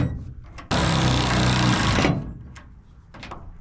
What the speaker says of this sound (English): And now we'll put the screws back in.